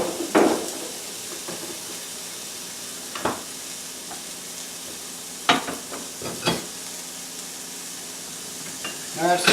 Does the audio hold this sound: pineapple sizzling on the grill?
yes